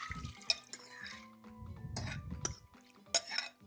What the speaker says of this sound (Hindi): हम दाल को कुकर में डालेंगे।